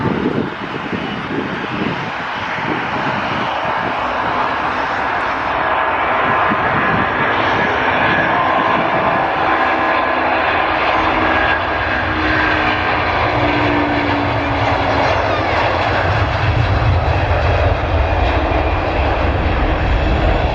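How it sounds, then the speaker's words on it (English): A Virgin A330 airliner takes off at Manchester Airport, its jet engines a loud, sustained roar that builds steadily, with a deep rumble swelling toward the end. "two Virgin A330s on the move. The one that's just got airborne is on its way to Orlando in Florida"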